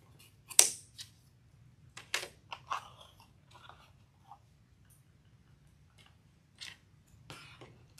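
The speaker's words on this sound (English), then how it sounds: "Scissors." Scissors snip through ribbon for a door hanger craft, giving a few quiet separate crisp cuts and small handling clicks spread across a mostly silent stretch.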